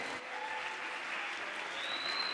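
Applause at a youth event, a dense, even wash of clapping that holds steady from start to finish, with a faint whistle-like tone running through it.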